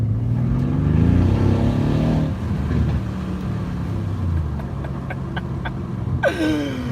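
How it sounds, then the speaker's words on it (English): A car engine drones and revs up, then drops in pitch as the driver downshifts, with a steady rumble underneath and a brief rising whine near the end, heard from inside or close by with no talk. "Okay, listen to the downshift."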